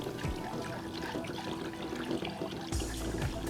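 Full cream milk poured into a pan for a stuffed eggplant filling while it is whisked, giving a steady liquid pour and stirring wash throughout, with a brief louder splash near the end.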